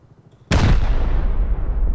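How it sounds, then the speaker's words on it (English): A rocket launcher fires in the video game Rust with one sudden, loud blast that booms and then rumbles away over about a second and a half. "He just sent a rocket right through a single broken pane in the window"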